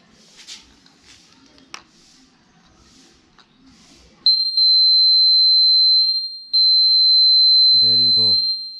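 Indicator buzzer on a Royal Enfield Interceptor 650 motorcycle sounds a loud, steady high-pitched tone for about two seconds, a short gap, then again, after quiet handling noises, with a voice speaking briefly at the end.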